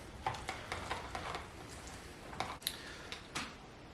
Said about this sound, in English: Now I'm adding my cucumber and I'm gonna stir that in.